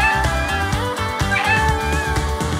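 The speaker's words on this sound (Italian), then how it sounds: "Un gatto vuole degli hot dog?" A cat meows repeatedly over a steady backing of rhythmic music, the cries loud and close, rising and falling in short drawn-out calls.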